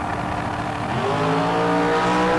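A bracket-race dragster launches hard down the drag strip, its engine climbing steadily in a loud, sustained roar with rising harmonics over about two seconds, close and continuous with no talk.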